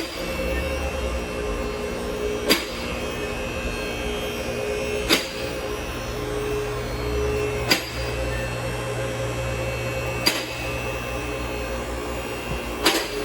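A car lift raising a Mercedes C300 onto its locks, a continuous loud motor hum and whine with sharp metallic clacks repeating about every two and a half seconds as the lift's safety locks catch.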